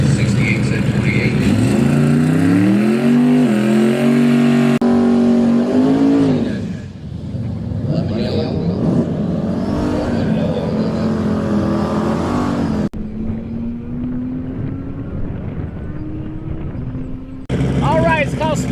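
An immaculate Camaro drag racing in the Street 275 class at a heads-up shootout, its engine roaring loud and close with rising harmonic pitch sweeps, easing off midway, then a steadier distant drone as an announcer talks over it.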